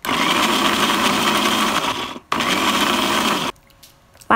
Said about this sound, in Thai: ทั้งหมดนะคะเอามาปั่นใส่น้ำเปล่าหรือว่าน้ำต้มสุกนะคะลงไปแล้วก็ทำการปั่นให้ละเอียด